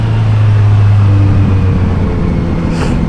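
A 2021 Kawasaki Z900 RS motorcycle engine runs steadily while riding, a loud, even low drone with a constant hum and no pauses.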